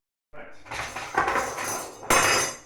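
Metal utensils scrape and clatter against a pan while stirring soft pasta in short, close bursts, ending with a brighter clank.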